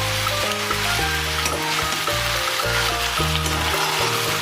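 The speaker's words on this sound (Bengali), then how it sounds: "এবার ভালো করে নাড়াচাড়া করে মশলার সঙ্গে পাস্তাটাকে মাখিয়ে নেব" Pasta being stirred with spice paste in a pan, giving a steady hiss of frying and soft scraping strokes, with background music playing throughout and no speech.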